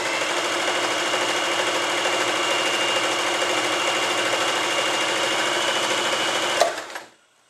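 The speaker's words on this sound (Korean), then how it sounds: "바늘을 올려놓고 G 스티치 한번 해보겠습니다." An Elna 2000 sewing machine running a G stitch, a loud, close, continuous rapid mechanical whirr and needle clatter at steady speed for several seconds before it stops abruptly.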